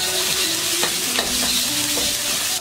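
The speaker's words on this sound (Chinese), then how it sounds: "锅中加入少许的底油，加入干辣椒段，加蒜末，" Dried chili pieces and minced garlic stir-fry in a little oil for kung pao chicken, a steady close sizzle broken by a few scraping stirs of the spatula, with no talking.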